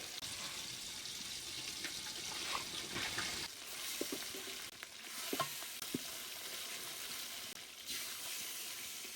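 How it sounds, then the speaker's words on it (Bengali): Chicken pieces for biryani frying over high heat, a steady close sizzle and hiss running throughout with occasional stirring clinks and scrapes of the pan. "আমি এভাবে বাকি সবগুলো চিকেন ফ্রাই করে নিচ্ছি"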